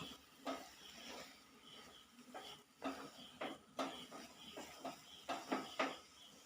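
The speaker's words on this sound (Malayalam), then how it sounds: "ഇതെല്ലാം ഒന്ന് പാനിന്ന് ഇളവി വരണം, അതുവരെ ഒന്ന് ഇളക്കി കൊടുക്കാം" Repeated light scrapes and taps of a spoon against a pan as a sweet mixture with crushed cardamom is stirred, a quiet, irregular rhythm over faint sizzling.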